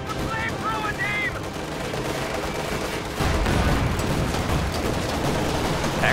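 Infantry blast out a heavy volley in a WWII tank combat video game, with dense, rapid gunfire crackle and rolling bursts that thicken into a louder barrage midway, under faint voices.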